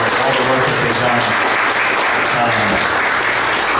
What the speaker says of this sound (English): if you want to give them a round of applause for all the work that they've done.